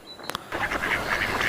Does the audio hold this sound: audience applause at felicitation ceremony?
no